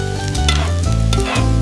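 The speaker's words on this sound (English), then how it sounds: "Add your 200 grams of sliced mushroom. Sauté for 4 to 5 minutes until they are beautifully browned." 200 grams of sliced mushrooms sauté in a hot skillet, giving a close, steady sizzle with repeated scraping and stirring strokes of a utensil against the pan.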